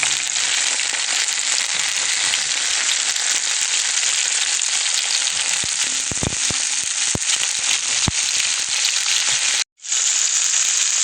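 Chicken-of-the-woods mushrooms frying in a pan with onions: a loud, steady, dense sizzle with scattered crackles throughout, briefly cutting out near the end before resuming.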